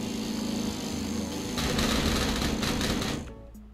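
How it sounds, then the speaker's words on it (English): A lawnmower running in the video game Kill It With Fire, a steady buzzing motor drone that grows louder midway, then cuts off abruptly near the end. "I have a lawnmower."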